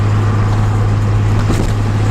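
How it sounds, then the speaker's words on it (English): A Nissan Z car makes a full-throttle acceleration run from a red light. A loud, steady engine drone holds close and constant throughout. "do a full throttle run up here at the red light."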